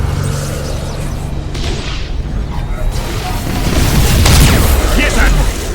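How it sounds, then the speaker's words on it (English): Spaceship cannons fire in the space battle game Battlefleet Gothic Armada, a run of heavy booms and rumbling blasts that builds to a loud burst near the end, with a voice talking over part of it. "Another cannon should have done some damage there."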